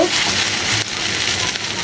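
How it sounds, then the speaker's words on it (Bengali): Bora patties made from leftover rice fry in hot oil in a wok, giving a loud, steady, close-up sizzle and crackle with no voices. "তারপর আমি এগুলো বড়া শেপে দিয়ে কড়াইয়ের তেলে দিয়ে দিব।"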